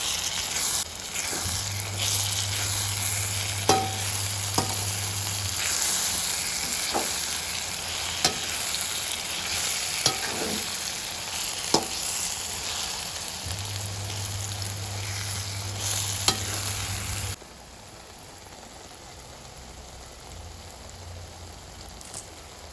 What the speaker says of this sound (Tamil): நீர் வற்றும் வரை கிளறுதல் வேண்டும்